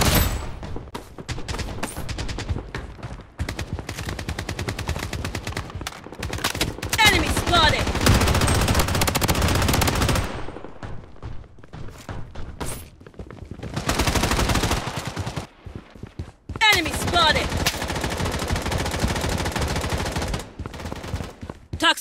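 Sustained automatic gunfire in the video game Project BloodStrike, dense rapid bursts of shots for long stretches broken by short pauses, loud and close, with speech in between.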